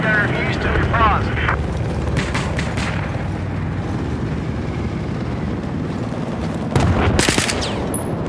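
Battlefield 4 combat: loud, dense machine gun fire and scattered gunshots roar continuously up close, with a burst of heavier blasts near the end. Voices shout over the din.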